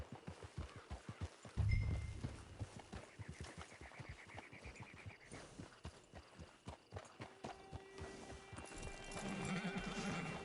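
A horse in a video game neighs and whinnies while hooves clip-clop steadily at a walking pace, close by, with faint bird calls and no talking.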